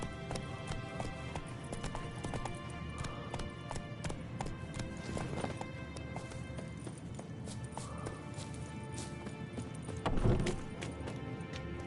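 Hoofbeats of Roach, the horse in The Witcher 3 on PS5, gallop steadily and close, with a louder crash or thud near the end.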